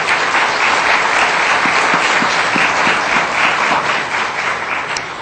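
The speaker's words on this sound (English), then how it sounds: "So please join me in giving all of our speakers a round of applause." Loud, sustained audience applause for a panel of speakers, with dense clapping that holds steady and then tapers slightly at the end.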